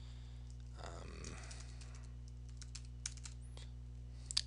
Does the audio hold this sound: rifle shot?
no